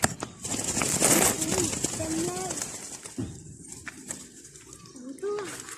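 Soft dove coos repeat in short phrases outdoors, with someone talking over them and rustling nearby.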